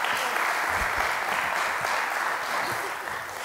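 Audience applause for a panel at a climate change symposium. Dense, loud clapping from a full room holds steady for the whole stretch and eases slightly at the end.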